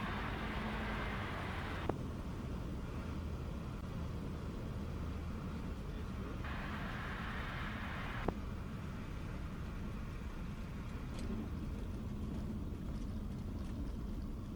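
Skyranger Swift microlight's engine with the throttle closed on approach, a steady broadband drone filling the whole stretch, with brief sharp clicks and a shift in tone partway through.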